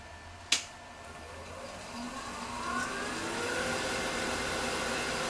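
A wood lathe set up with a Kobra deep hollowing system is switched on with a sharp click, and its motor hum then ramps up gradually into a steady, moderately loud whine.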